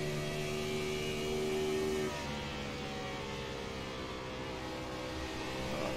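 A race car engine in a sim racing game at Chicagoland drones steadily at high revs, with its tone dropping partway through as the car heads into a turn without the clutch pushed in.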